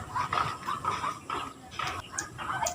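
Chickens cluck near a house in a series of short, repeated bursts at close range, with a few quiet background sounds between the calls.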